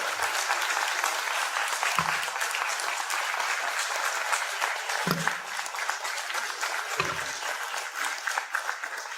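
A large audience at a student convention gives loud, sustained applause welcoming the Lok Sabha Speaker as chief guest, an even wash of clapping with a few low thumps.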